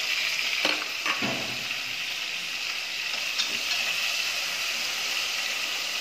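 A snakehead fish head sizzles steadily in hot oil in a pan, a dense bright hiss with a few scraping clunks as it is turned over, close and fairly loud with no talk.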